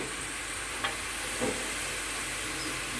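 Onions frying in a pan for Telugu-style fish curry, a steady broadband sizzle with a couple of faint utensil scrapes as they are stirred, close and continuous with no talking.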